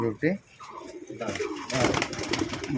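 Domestic pet pigeons coo near the microphone in a home loft, several soft low calls in the first moments, then mixed with background bustle and someone talking over them.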